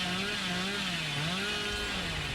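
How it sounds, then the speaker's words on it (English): A chainsaw revs steadily in Dead by Daylight, a loud continuous buzzing drone with a slightly wavering pitch, heard alone. "We're going to listen to this and we're going to chainsaw to the other one."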